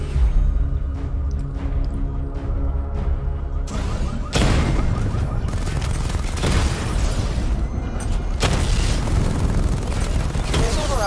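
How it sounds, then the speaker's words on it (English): A missile barrage in a video game weapon simulation: a dense run of heavy booming blasts that hit hard at several points, laid over a continuous low rumble and game noise. "Destroy targets to charge up weapon energy and activate missile barrage."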